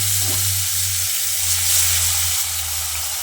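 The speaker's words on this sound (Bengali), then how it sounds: "এই মাছগুলোকেও আগের মতোই জাস্ট উল্টে পাল্টে তেলে ভেজে তুলে নেব" Hilsa fish pieces fry in hot oil, a steady close sizzle and hiss running unbroken as the pieces are turned, with a low hum beneath and no voices.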